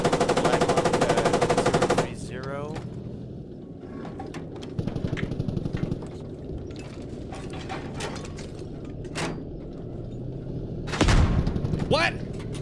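Gunfire in the Squad 100-player military shooter, around an old T-62 tank facing a Canadian Leopard: a loud, rapid machine-gun burst up front, then scattered shots, clanks and a sharp blast, with players talking over the radio.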